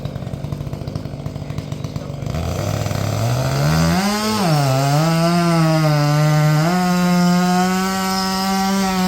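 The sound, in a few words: Jonsered 2165 chainsaw cutting wood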